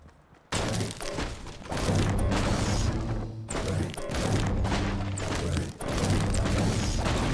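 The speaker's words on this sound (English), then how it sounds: "look around the map for these pallets, because the tallest form of them gives you a minimum of 40 wood," Wooden pallets being smashed in Fortnite, a run of heavy thuds and cracking crashes that follow one another in a rhythm after a quiet start, loud and close, with no voices.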